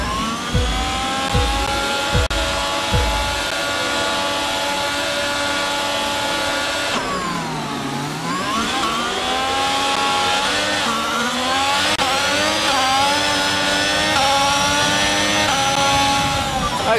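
Formula 1 cars in the F1 22 video game launch off the grid at a race start, a loud sustained high-revving engine whine with shifting pitch, a few low thumps at the start and a dip in revs midway.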